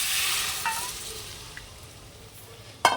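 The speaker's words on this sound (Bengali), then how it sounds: "এবার এর মতো এই জলটা দিয়ে দিচ্ছি" Water poured into a hot pan of sautéed mixture: a loud burst of sizzling at the start fades into a low hiss, with a few utensil clinks and a sharp clatter near the end.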